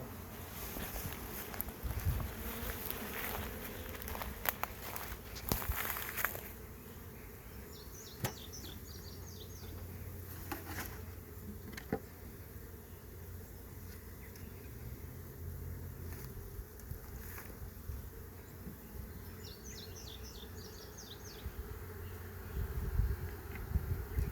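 Honeybees buzz in a continuous, fairly quiet drone while a swarm is captured and a colony is split outdoors, with occasional clicks and handling knocks and a faint breeze behind them.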